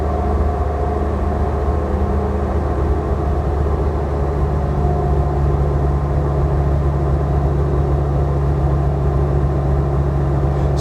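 A Land Rover Defender Td5 110 diesel fitted with an Alive GTB450 VNT turbo runs steadily on a dyno, giving a loud, constant low engine drone with no change in pitch and no voices throughout.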